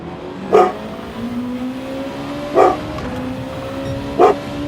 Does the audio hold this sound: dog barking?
yes